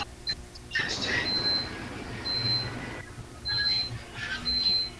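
Cellphone alarm ringing in bursts of thin, high repeated beeps, heard indoors from another room, with people talking over it.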